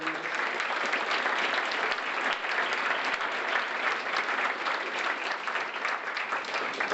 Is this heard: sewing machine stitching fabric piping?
no